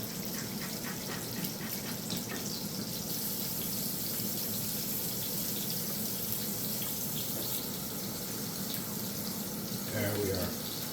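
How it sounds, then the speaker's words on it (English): Tap water runs steadily into a kitchen sink as hands are washed beneath it, a continuous close splashing hiss with brief shifts in the flow near the end. "Give our hands a thorough wash."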